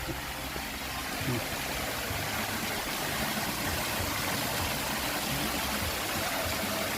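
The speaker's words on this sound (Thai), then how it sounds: "ด้านข้างนี้ก็จะมีน้ำตก" A waterfall beside a hillside temple gives a steady, broad rush of falling water that fills the scene evenly throughout.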